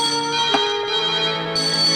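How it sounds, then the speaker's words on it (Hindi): A telephone rings with a steady, bright, sustained bell-like tone that is fairly loud and close, with a held musical tone underneath and no voices. "सर, फोन की घंटी।"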